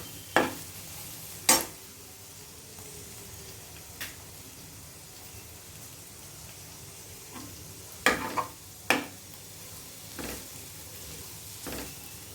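Bitter gourd slices fry in a pan with a steady, quiet sizzle, broken by several sharp scraping knocks as a spoon stirs and tosses them, close by, without anyone talking.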